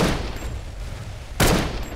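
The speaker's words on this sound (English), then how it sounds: "I'm in the desert shooting Rexes from the swamp" Gunfire in the video game Primal Carnage Extinction, a player in a desert area shooting at Rexes: a steady rumble of rapid shots, then a sharp louder burst near the end.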